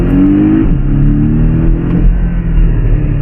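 A Porsche 718 Cayman accelerates hard in first gear, its engine rising in a loud, close, continuous pitch sweep with a deep rumble and no talking.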